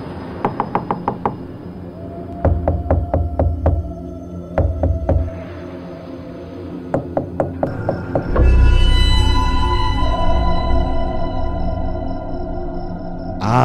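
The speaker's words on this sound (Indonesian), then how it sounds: "pintu kamar digedor-gedor dengan keras dan dengan hebatnya" A bedroom door is pounded hard and repeatedly as a horror sound effect, bursts of heavy knocking in uneven volleys with a low rumbling drone rising beneath them.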